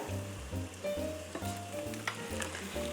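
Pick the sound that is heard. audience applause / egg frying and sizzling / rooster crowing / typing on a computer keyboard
egg frying and sizzling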